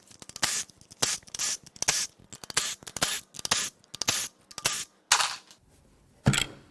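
A valve cover being pried and peeled off a blown 2.4L Ecotec engine from an Equinox or Terrain, giving a series of short, sharp scraping and cracking pulls in irregular bursts, close and fairly loud, with no talk.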